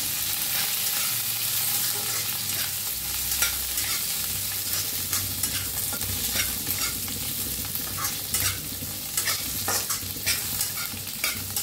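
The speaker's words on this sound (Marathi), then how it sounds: "आता त्याच्यातच टाकायचं ही मिरचू, छान मिक्स करूया ह्याच्यात।" Chilies being stirred into a dry-roasted mixture with white sesame seeds in a pan, a steady scraping and stirring with a faint sizzle running continuously close by, with no talk.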